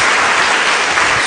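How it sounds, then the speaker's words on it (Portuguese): A church congregation claps loudly and continuously in a dense burst of applause. "Dê uma salva de palmas a Jesus"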